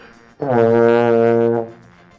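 A long, loud horn blast of about one second sounds on its own, steady and rich in harmonics, from a horn being tooted at a Dutch singing festival.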